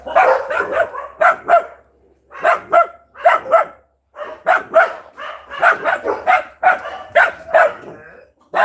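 A dog barks repeatedly and loudly nearby, in rapid clusters of barks separated by brief pauses.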